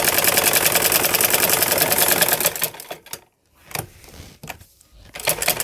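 A sewing machine stitches a mohri (poncha) design on fabric, running fast and continuously for a few seconds, then stopping and starting again in short bursts as the fabric is turned.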